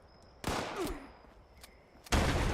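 Shotgun fire in the video game Fallout 76: two loud, broad blasts roughly a second and a half apart, with a quieter game ambience and faint tones between them.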